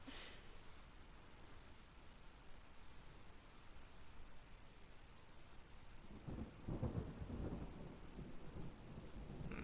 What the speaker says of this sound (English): I'm scared of the thunder, guys.